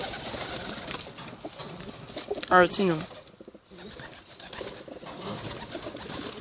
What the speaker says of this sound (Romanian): azi o să vă prezint niște porumbei